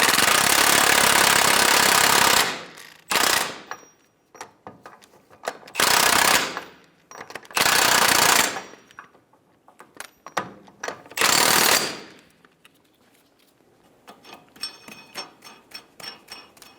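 An impact or power tool on a 34mm socket snugs the rear axle nut on a Buick Enclave, with several loud, rattling mechanical bursts of a few seconds each separated by pauses, then quieter clicks and handling noise.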